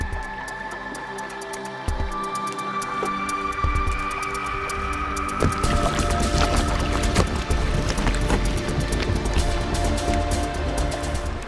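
Bubbles popping and ice grinding against itself in Sierra Cove, an Antarctic bay jammed with floating icebergs beneath glaciers, heard as dense crackling, clicking and sloshing that swells louder after the first few seconds and continues steadily throughout.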